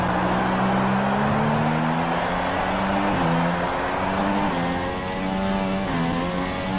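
A Formula 1 car engine in the video game F1 2016 drives a lap, with a loud, steady high-pitched whine that climbs through the gears and drops briefly at each shift, heard alone.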